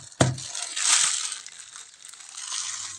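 Jengkol beans being crushed and flattened for frying, a sharp crunching press near the start followed by a sustained gritty crackle and squeeze, close and fairly loud, no talking.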